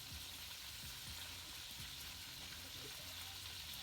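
Food sizzling and frying in a pan in a home kitchen, a steady loud crackle throughout, with faint low stirring knocks beneath and no talk.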